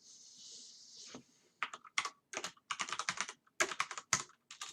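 Typing on a Commodore 64 keyboard: a hum is heard first, then bursts of fast, crisp key clicks in uneven clusters with short pauses between them, close and clear with no talking.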